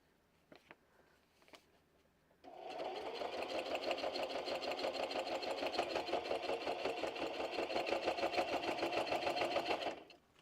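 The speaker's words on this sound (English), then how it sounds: "we don't want a zigzag, we want a straight stitch, and we want it kind of short." A sewing machine running a short straight stitch: one steady, rapid mechanical chatter lasting about seven seconds after a brief quiet start, close and clear with no talking.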